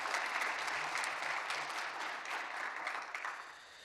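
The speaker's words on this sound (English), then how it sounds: "A round of applause for them as well." Audience applause fills a pitch event hall, steady broadband clapping from a crowd lasting several seconds and tapering slightly at the end.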